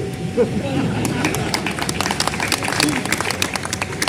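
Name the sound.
audience clapping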